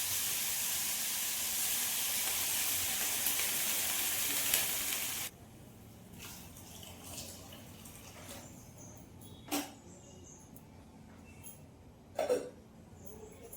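Water poured into a pan of fish curry with crushed ginger and garlic sets off a loud, steady sizzling hiss that drops sharply to a quiet simmer with occasional soft pops and drips.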